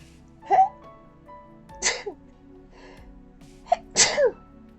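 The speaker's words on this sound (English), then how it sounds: "Wait, I have to sneeze again." Two sharp sneezes, close and loud, each with a quick inhaled build-up before the burst, separated by a short pause.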